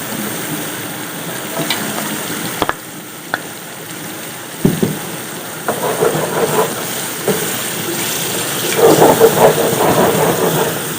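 Chicken and masala fry in ghee in a handi for a green chicken dish, giving a steady, close sizzle. Occasional clinks and scrapes of stirring break through, with the frying growing louder toward the end.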